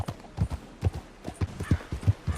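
A horse's hooves clip-clop in a quick, steady trotting rhythm, close and clear with little else around, in the video game Red Dead Redemption.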